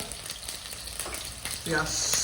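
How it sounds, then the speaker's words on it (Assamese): Onions and potatoes sizzle steadily in hot oil in a kadai, a constant close hiss with a brief clink of stirring near the end. "আপোনাৰ পিঁয়াজটো বৰ্তমান ভাজি আছে"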